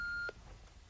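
An answering machine gives a single sustained electronic beep lasting about a third of a second, followed by a faint click and quiet room hiss in a radio drama scene.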